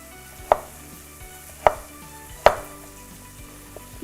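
A knife strikes a cutting board three distinct times, spaced about a second apart, while vegetables are chopped into thick julienne batons; clear and close with no talk.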